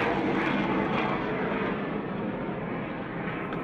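Military aircraft fly overhead during the NATO Anaconda 16 drills, a loud broad engine roar that fades slightly as they pass, with no voices.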